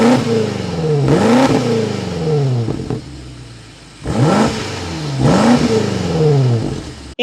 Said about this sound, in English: give it some revs